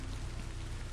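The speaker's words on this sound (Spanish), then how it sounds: "Como está lloviendo" Rain falls in a brief, steady, even hiss, with no voices over it.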